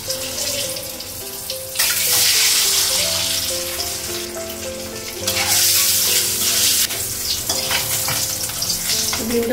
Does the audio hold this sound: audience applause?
no